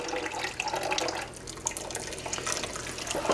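Tap water runs steadily into a bowl of rice being rinsed, a continuous soft splashing trickle with light drips, close and alone without talk.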